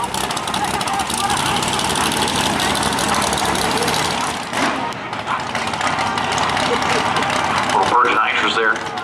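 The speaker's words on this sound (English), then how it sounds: "Little burst of nitrous there." Drag racing car launching at Maryland International Raceway during a Haltech Hail Mary Derby nitrous run, a loud, dense engine roar that holds steady, dips briefly midway, then surges again, with a voice talking over it.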